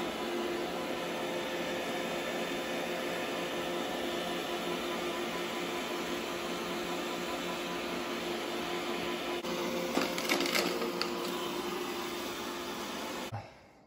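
An iRobot Roomba i7+ robot vacuum picks up sawdust indoors, giving a steady, loud, even whir of motor and suction that runs unchanged and then cuts off abruptly at the end, with a few brief clicks near the close.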